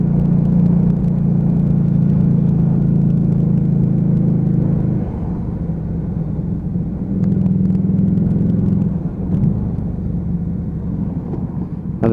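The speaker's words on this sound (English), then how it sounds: "even at 3000 RPM, fourth gear, that engine is just burbling away." A Lexmoto Vendetta motorcycle engine burbles steadily at about 3000 RPM in fourth gear, a loud, continuous low rumble close by that eases slightly midway before swelling again, with no talking.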